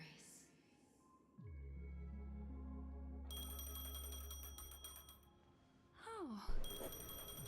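A ringing phone in the video game Honkai: Star Rail, a steady electronic ring with sustained tones that repeats under in-game music and ambience, then cuts to a brief whooshing transition.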